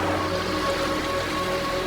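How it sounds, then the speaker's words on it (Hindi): A large, fast river rushes through Son Doong cave, hundreds of meters underground and swollen by heavy rain. It makes a steady, dense roar of churning water, like heavy rain, with no pauses. "इस गुफा के इस हिस्से में एक बहुत बड़ी नदी है।"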